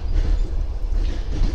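Surgut–Langepas passenger train running on rails, a steady low rumble of wheels and carriage noise filling the whole stretch, close and continuous with no voices.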